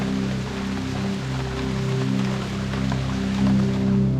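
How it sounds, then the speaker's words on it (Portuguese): Rain falling at the Pico do Corcovado peak near Ubatuba: a continuous, even wash of rain noise over a steady low tonal hum, close and unbroken, with no voices. "É gostoso o barulho da chuva também"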